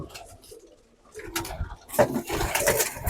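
Pigeons coo softly inside a loft where eggs are hatching, a few low throaty calls coming close together and growing louder toward the end.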